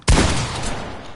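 A single pump shotgun blast in a video game, a sudden loud boom that decays into a long reverberant tail.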